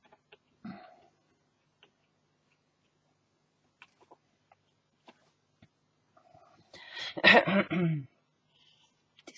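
One short, gravelly throat-clearing rasp from a scratchy, itchy throat rises from quiet surroundings broken only by faint clicks and taps.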